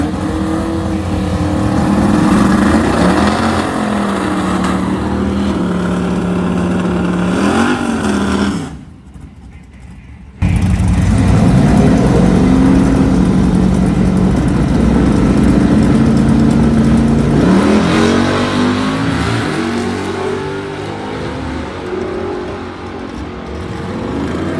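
The LSA-swapped IROC-Z Camaro launches down a drag strip with a loud, close engine roar that climbs through the revs, breaks for a gearshift, then surges again and fades slightly as it pulls away.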